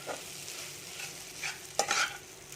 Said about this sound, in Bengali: এখানে আমি ভালো করে মিশিয়ে নিচ্ছি আগে পেঁয়াজটার সাথে